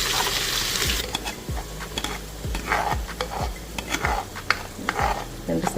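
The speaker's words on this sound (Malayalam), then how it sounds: "ചൂടായ എണ്ണയിലേക്ക് പട്ട, പെരുംജീരകം, ഏലക്ക ഇട്ട് മൂത്തതിന് ശേഷം അതിൽ വെളുത്തുള്ളി, ഇഞ്ചി പേസ്റ്റ്, പച്ചമുളക് ഇട്ട് വറുത്തെടുക്കാം" Garlic, ginger paste and green chili fry in hot oil in a clay pot for chicken biriyani, a steady sizzle broken by regular scraping strokes of a spoon, close and without talk.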